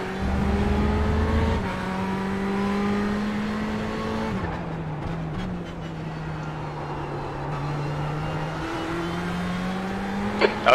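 Ferrari 488 race car engine from a sports car racing simulator at Daytona, a loud sustained howl with a gear shift early on and steady high revs alongside other cars, no talking.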